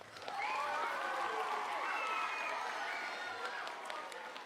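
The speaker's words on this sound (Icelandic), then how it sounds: "gefið þið Háaleiti skóla gott klapp" An audience at a school talent festival applauds a performance by Háaleitisskóli students, with sustained dense clapping and some cheering. A few whoops rise above the steady applause, which fades slightly toward the end.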